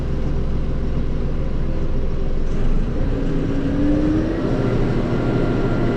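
A Mahindra 6065 PST 4x4 cab tractor drives in medium range, second gear, its engine giving a steady, loud, close low drone with a brief rising whine partway through.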